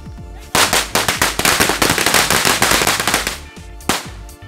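Diwali firecrackers go off in a loud, dense string of sharp bangs and crackles for about three seconds, with one more separate blast near the end.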